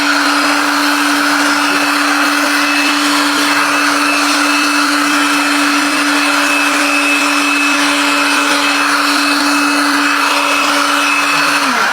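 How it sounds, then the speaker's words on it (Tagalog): A cordless blower drying a wet surface runs at full power nearby, a loud, steady motor whine with an even airy rush that holds unbroken throughout and stops right at the end. "So, ang magandang option is yung blower natin."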